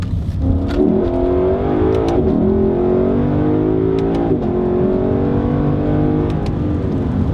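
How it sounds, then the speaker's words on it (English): A Lexus LC500 with a ten-speed transmission, heard from the cabin with its engine climbing through repeated revs and throttle blips on downshifts, steady and loud with no talking. "you get to downshift over and over and over again to get that beautiful blip of a downshift"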